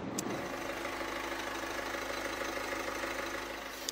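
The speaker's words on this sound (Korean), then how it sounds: "이 정도의 엔진 소음이 납니다." Chevrolet Trax with a 1.6 diesel engine idling, heard as a steady low rumble with slight diesel clatter, continuous and moderately quiet, with no voices.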